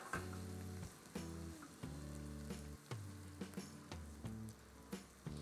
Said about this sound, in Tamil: அந்த நெய்யில் அந்த சீரகமும் பூண்டு நல்லா ரோஸ்ட் ஆன உடனே